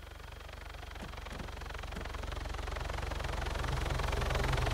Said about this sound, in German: Ich glaube, das ist ein Polizei-Heli.